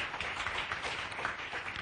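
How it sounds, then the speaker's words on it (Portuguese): Faint applause for the debaters at a union research conference panel, a continuous even patter of many hands heard from a distance in a hall. "uma salva de palmas, então, para os debatedores."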